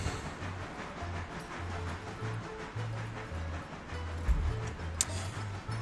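A train in the railroad game Railroader creeps slowly along the track, giving a low, steady rumble with a pulsing rhythm that continues throughout at a moderate level.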